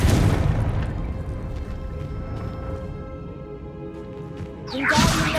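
A Confringo fire spell explosion in Hogwarts Legacy, opening with a loud booming burst that decays into a low rumbling tail, then a second sharp whooshing impact near the end.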